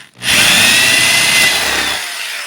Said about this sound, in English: You come and you just drill now.